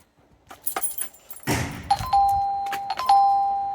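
A doorbell at home chimes after a soft thunk, its clear ringing tones sounding twice with a gentle decay, fairly near and with no talk over it.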